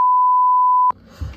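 A timer gives one sustained, loud electronic beep lasting almost a second, then cuts off into low background rumble.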